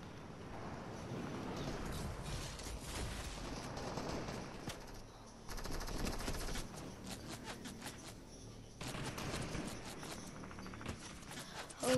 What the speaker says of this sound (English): Oh, was that an AK?